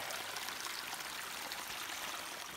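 Water flows at a trail water source on the Appalachian Trail, a faint steady trickling rush heard alone without speech.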